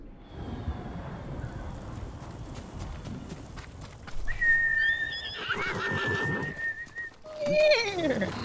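A horse in the video game Ghost of Tsushima lets out two loud, shrill whinnies in the second half, after quieter hoof clip-clops and movement sounds.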